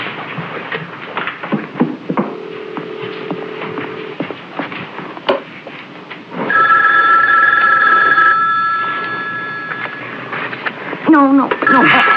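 A telephone rings in a tense indoor scene, its bright repeating trill sounding for a couple of seconds mid-clip and again briefly near the end, with voices and background noise around it.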